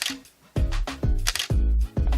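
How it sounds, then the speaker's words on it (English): A camera shutter fires repeatedly in continuous mode, four close, crisp mechanical clacks at an even, moderately quick pace. "And now I'm just holding down the button."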